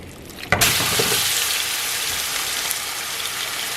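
Beef dropped into a hot pot of coconut curry gives a sharp onset, then a loud steady sizzle and bubbling hiss that holds close and even to the end, with no one speaking.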